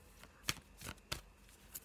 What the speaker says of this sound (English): So I'm just going to have a little shuffle.